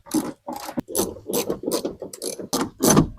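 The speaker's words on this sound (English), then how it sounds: "Unscrew the fender flare." Rear fender flare screws on a third-generation Toyota Tundra are backed out with a ratchet, giving a quick series of about eight close, loud ratcheting bursts in a steady rhythm with no talk.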